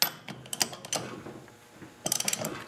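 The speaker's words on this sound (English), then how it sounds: "Hold it into place to get your socket and ratchet." A socket and ratchet turning while loosening a small engine flywheel nut, two quick runs of sharp, close ratcheting clicks separated by a short pause.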